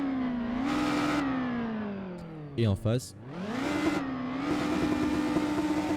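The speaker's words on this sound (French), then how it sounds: "on a le bruit des pots d'échappement qui sortent par derrière" A Roblox car engine drones steadily with a strong exhaust tone, dips low and revs back up midway, then settles into a steady hum; someone speaks briefly over it.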